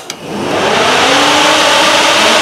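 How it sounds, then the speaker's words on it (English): Cooling fans in an LS-swapped G-body car with factory A/C set to max kick on with a faint click, then blow a loud, steady whooshing roar that swells up and holds without letup. "as soon as I turn this on max, you'll hear the fan kick on"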